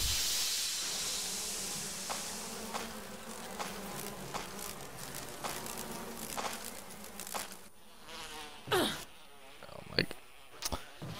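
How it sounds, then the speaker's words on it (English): Bees buzzing in the Resident Evil video game, a persistent close insect drone broken by sharp game effects, with a voice breaking in briefly. "you stupid freaking bees."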